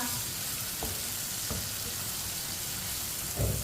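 Ridge gourd (turai) with spices frying over low heat in a pan, a steady close sizzle with a few soft clinks of stirring and no talk.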